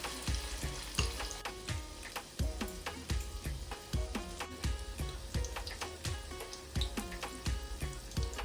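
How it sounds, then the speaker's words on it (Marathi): Spoonfuls of moong dal vada batter sizzle in hot oil in a kadhai, a steady close frying hiss punctuated by regular bubbling pops and crackles. "आता आपण कढईत वड्यांचं पीठ टाकून घेतलेलं वडे बनवायला"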